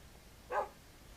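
A dog in the video game Minecraft gives one short, faint bark on its own, with no talking.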